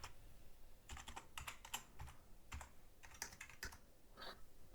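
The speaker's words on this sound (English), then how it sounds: "Now enter the password." A password being typed on a computer keyboard, heard as quiet, irregular bursts of light key clicks with short pauses between them and no voices.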